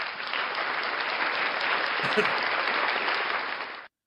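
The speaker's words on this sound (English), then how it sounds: "Ladies and gentlemen, round of applause for the one and only Blackheart Knight." A burst of steady, dense applause for a performer on a live morning show, even and unbroken before cutting off abruptly.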